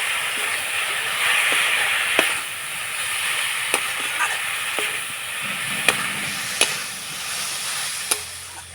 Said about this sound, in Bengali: নাড়াচাড়া করে পুরটা তৈরি করে নেব।